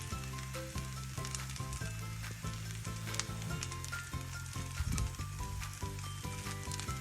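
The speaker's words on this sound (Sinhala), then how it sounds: "ගින්දර හොඳින් වැඩි කරලා බත් ඇට හොඳින් බැදෙනකන් හොඳින් රයිස් එක කලවම් කරගන්න" Rice stir-fried over high heat in a Sri Lankan fried rice pan, a steady loud sizzle running throughout with scraping stir strokes and soft background music, no talking.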